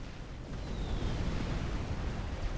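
Bombs from Janus bombers explode across a target in the strategy game Forged Alliance Forever, a continuous rumbling roar of overlapping blasts that swells and holds, dense and low, with no talk.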